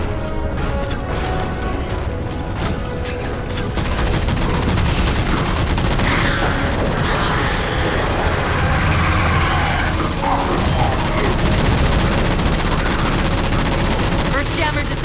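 Sustained automatic gunfire and heavy bursts fill an action-movie battle as jammers are shot down, loud and continuous over a dense background, with a brief quieter stretch at the start.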